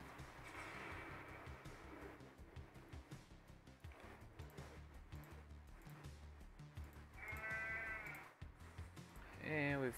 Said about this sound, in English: If you hear goats at my house, you know my son's playing Goat Simulator.